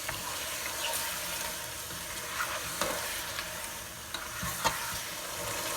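Chicken masala for achari chicken sizzles softly in a pan as it is stirred, giving a faint, continuous frying hiss with several light scraping knocks from the spoon.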